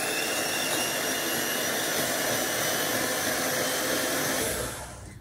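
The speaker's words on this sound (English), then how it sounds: "We're going to whisk this up first." An electric mixer whisks three separated egg whites, a loud steady high-pitched whirring drone that runs continuously before cutting off and fading at the end.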